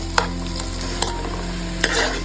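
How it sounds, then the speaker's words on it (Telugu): Onions roasting in a pan for chicken pulao, with a steady sizzling hiss broken by a few sharp scrapes of stirring, close and fairly loud with no one speaking. "ఈ ఆనియన్స్ అనేవి బాగా రోస్ట్ అవనిద్దామండి"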